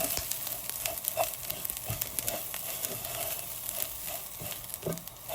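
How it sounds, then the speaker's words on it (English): Garlic powder and onion powder toast in a hot frying pan, producing a steady, close, low crackling sizzle with scattered small pops throughout and no voices. "Now I'm going to add half of a tablespoon of garlic powder, a tablespoon of onion powder. You can hear it toasting away."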